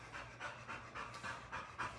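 A dog pants steadily nearby inside a house, a fast rhythmic run of quick breaths repeating through the whole moment, fairly soft and alone with no talking.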